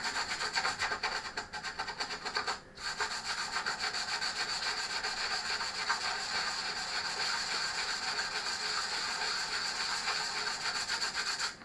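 Wood is sanded by hand with steady, close rasping back-and-forth strokes, a continuous scratchy friction with one brief pause early on, no voices.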